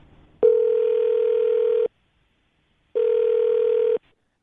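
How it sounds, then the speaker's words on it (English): A telephone tone sounds while a phone number is being dialed, coming as two steady, loud electronic bursts: a long one of about a second and a half, a pause, then a shorter one, heard on their own with no talk. "I'm going to dial her phone number right now"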